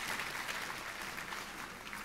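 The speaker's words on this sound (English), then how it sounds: "Let's give Dr. Price and this Cowgirl Up entry a Texas-sized round of applause" A room of guests at a charity luncheon program applauding an award entry, a soft, fairly distant and steady patter of many hands clapping with no speech over it.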